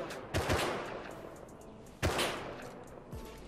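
Gunfire in the video game Rust comes as two sharp, loud shots about a second and a half apart, each followed by a short ringing tail, with a fainter report near the end.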